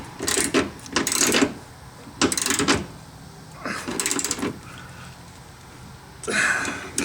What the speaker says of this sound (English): Just going to tighten the top one.